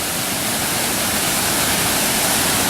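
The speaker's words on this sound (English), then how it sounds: "Falls. Beautiful. A lot of water coming through." A waterfall with heavy flow where swimming is possible, a loud, dense, unbroken roar of rushing water filling the whole clip with no other sounds.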